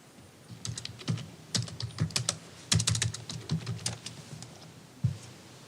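Close computer keyboard typing in a courtroom produces irregular bursts of soft key clicks over a low room hum, with short pauses between runs and no voices.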